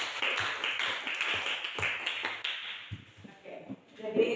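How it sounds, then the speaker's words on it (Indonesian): Classroom applause for a student named Robert: a short burst of scattered clapping from a group of pupils, fairly close and uneven, with some light voices mixed in and fading toward the end. "tepuk tangan untuk Robert"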